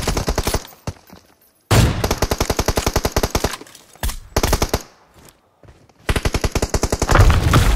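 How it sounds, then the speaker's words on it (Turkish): Automatic gunfire rattles in the video game PUBG Mobile, loud close bursts of rapid shots separated by short silent gaps, with no talking over them. "Bana ateş ediyordu o."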